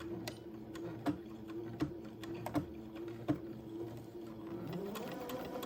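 A sewing machine stitches the first pass of a French seam at a quarter-inch allowance, a close, even mechanical whir punctuated by a few sharp clacks, with no talking.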